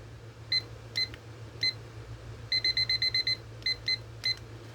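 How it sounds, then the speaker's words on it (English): A kitchen timer alarm beeps in short, high, electronic tones: a few single beeps, then a rapid burst of about eight, then more pairs and singles, all over a steady low hum. "So I'm just going to keep setting my timer for 10 minutes"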